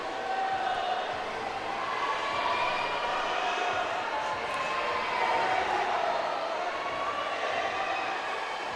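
A Portuguese crowd cheers steadily for a youth climber on a slab boulder at an under-17 bouldering qualification event, a broad sustained roar of many voices with no clear breaks.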